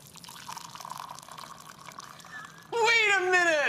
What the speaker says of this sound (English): So I'm blindfolded to see if cold water sounds different from hot water.